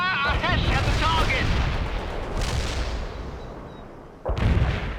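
A tank cannon firing a HESH round in the war strategy game World in Conflict: heavy booming blasts and rumbling gunfire in a dense battle mix, with shouted voices over the top.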